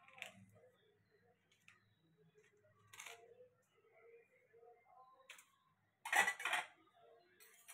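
Cumin and salt being mixed in a bowl for rice papad produce sparse, faint clinks and scrapes of a utensil against the dish, with quiet gaps and one brighter cluster of clatter near the end.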